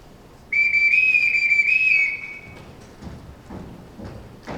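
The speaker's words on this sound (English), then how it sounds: "Everyone in this house answers to a whistle." A loud, shrill whistle is blown to summon a household, one long piercing blast lasting about a second and a half, followed by soft footsteps and light thuds in a quiet room.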